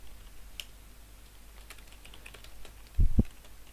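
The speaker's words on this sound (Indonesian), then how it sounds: "Kemudian ketikkan perintah ini." Keys are tapped faintly on a computer keyboard while a command is entered in a quiet room, ending in two firmer, louder keystrokes near the end.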